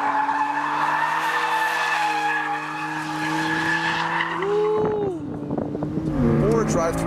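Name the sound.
2015 BMW M3 drifting with tyres skidding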